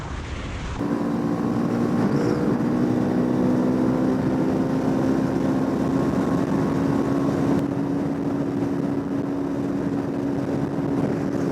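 A Kawasaki Ninja 300 motorcycle cruises along a highway, its engine droning steadily with a constant pitch under heavy wind rush for the whole stretch, loud and close from the rider's position.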